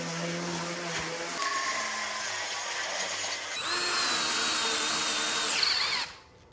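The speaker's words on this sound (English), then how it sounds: "Pretty much got everything drilled except for the mounting holes" A power drill bores holes in a copper busbar, its high whine steady at first, then rising to a louder, harsher grind as the bit cuts metal, before spinning down and stopping.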